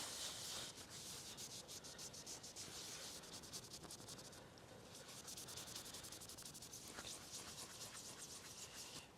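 A Honda Rincon engine piston wiped clean by hand, a continuous close rubbing and scrubbing sound with slight variations in pressure, and no talking.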